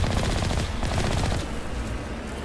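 Mass Effect gunfire rattles in dense, continuous automatic bursts, loud and close for the whole stretch, with no talking.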